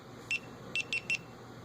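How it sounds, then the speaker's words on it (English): A GoPro HD Hero 3 Silver Edition camera gives four short, high beeps: one, a pause, then three in quick succession, close and fairly quiet. "And then it beeps to let you know it's good."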